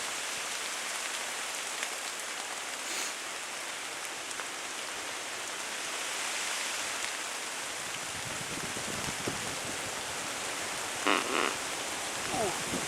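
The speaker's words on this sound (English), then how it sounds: "the rain was hammering down" Heavy rain pounds steadily on a countryside hide during an air rifle magpie hunt, a dense continuous hiss with occasional louder drops and splatters near the end.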